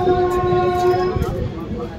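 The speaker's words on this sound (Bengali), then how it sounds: "ব্যান্ডেলে চলে আসলাম, কিন্তু এই ট্রেন 3 মিনিট আগে চলে এসেছে" A passenger train at Bandel Junction sounds a loud, steady horn tone for about a second over a heavy rumble of wheels and carriages, with the rattle continuing after the horn stops.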